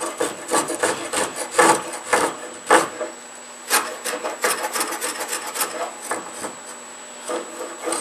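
A spokeshave shaves an Osage orange bow stave in quick rasping strokes, a rhythmic series of scraping pulls of wood fibre with a faint steady whine behind, close and fairly quiet with no speech.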